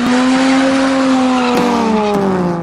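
Cars racing and revving loudly along Leninsky Avenue in Barnaul at night, with drifters on the road: a sustained, loud engine drone with rising and falling revs, tire squeal and sharp gear-shift bumps, close and continuous.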